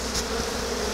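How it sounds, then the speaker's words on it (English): Aggressive honey bees swarming around a hive during requeening, a dense, steady buzzing drone filling the space, close and loud throughout with no talk. "these bees are real aggressive also"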